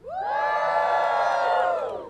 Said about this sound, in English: Give me a cheer if you took a form of public transportation to get here today.